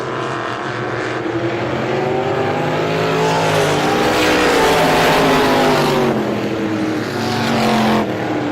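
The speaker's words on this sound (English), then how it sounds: "Anthony Payne trying to run away from the rest of the field in heat race number 2" At a speedway, stock race cars roar through a heat race, a dense pack of engines swelling loud as they sweep past and then easing off, heard from trackside without commentary.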